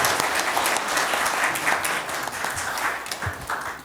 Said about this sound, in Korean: 뜨거운 박수로 오늘 마무리하면서 마치도록 하겠습니다